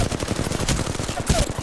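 Apex Legends gunfire rattles in a rapid automatic burst of close, loud shots with a brief louder crack near the end.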